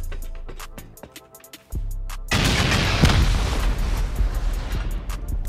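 Several rocket explosions go off during a raid on an underwater compound in a video game, with a sharp blast followed by a loud sustained roaring rumble and scattered crackling debris, no talk.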